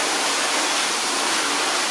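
A garden hose sprays water in a steady, close, even hiss that runs unbroken throughout, during a spray-wax car-care test, with no voices.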